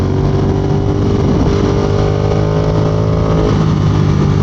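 A 2022 Ducati Monster motorcycle engine drones loudly under acceleration, a continuous rising mechanical roar with steady harmonic tone, recorded close as the bike rides, no talking heard.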